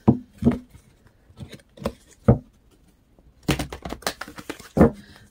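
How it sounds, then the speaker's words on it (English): An oracle card deck is shuffled by hand, giving separate soft slaps and taps followed by a denser riffling burst, close up and with no talking. "doing a little shuffling here."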